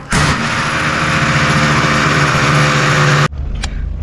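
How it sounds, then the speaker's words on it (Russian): A 5 mm bit drills a hole into brick while a balcony roof is being fitted. The drilling runs loud and steady for about three seconds, then cuts off abruptly. "Так, пробурили отверстие"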